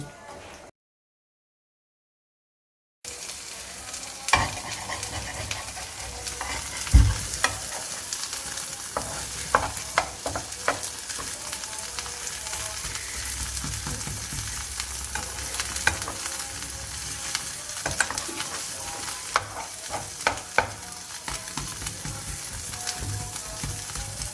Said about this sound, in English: I will flip this egg and hopefully it doesn't go.